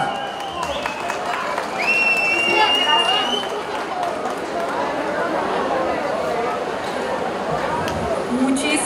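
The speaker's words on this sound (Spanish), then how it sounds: "Y unos aplausos para acá," An audience at a live event in San Martín Peras, Oaxaca, applauds for Alberto Rosas, a dense, steady wash of clapping that lasts throughout, with crowd chatter mixed in.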